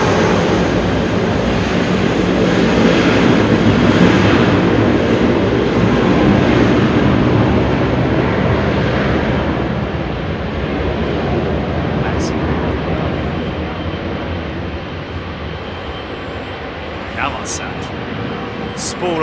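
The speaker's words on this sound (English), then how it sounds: "Spool up those big GEs." Big GE jet engines on an airliner at Heathrow spool up into a loud, sustained roar that eases slightly partway through, with someone talking over the noise.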